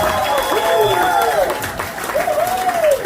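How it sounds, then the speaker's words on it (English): A crowd at a night out in Barham, New South Wales, claps and cheers for Jason Singh. Sustained applause runs throughout, with rising and falling whoops and voices over it. "Give a big round of applause for Jason Singh from Taxi Ride."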